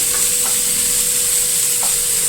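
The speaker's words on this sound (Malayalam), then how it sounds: "ഈ രണ്ട് വലിയ ഒനിയൻ ചോപ്പ് ചെയ്തത് ചേർത്ത് നന്നായിട്ട് ഇളക്കി കൊടുക്കുക" Chopped onions are stirred in a hot cooking pan, giving a brief, steady sizzling hiss with faint scraping from the stirring.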